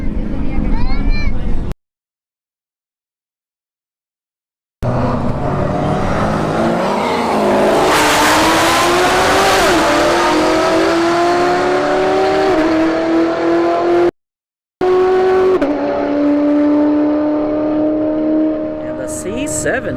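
A Chevrolet Corvette C7 and a Shelby GT500 launch side by side at a drag strip, their loud engines revving and rising in pitch through the gears as they pull away. The roar cuts out briefly twice, and a voice talks over the run.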